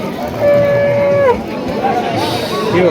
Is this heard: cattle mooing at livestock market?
yes